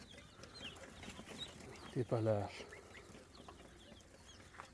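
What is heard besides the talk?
pheasant chicks chirping on a farm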